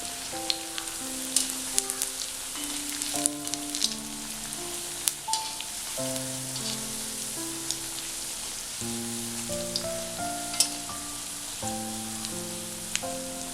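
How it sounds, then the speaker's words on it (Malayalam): Food frying in hot oil on a stove while being flipped and turned, a steady soft sizzle running underneath prominent melodic background music. "ഇനി ഇത് ഒന്ന് തിരിച്ചും മറിച്ചും ഒക്കെ ഇട്ടിട്ട് ഒന്ന് ഫ്രൈ ചെയ്തെടുക്കാം."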